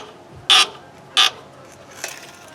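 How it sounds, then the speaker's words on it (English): Two sharp, bright mechanical clicks about half a second apart, then a fainter third, as a part is screwed onto a 1976 GMC Motorhome while installing a Quadrabag system; close and quiet between clicks, no talking. "I'm going to screw this in"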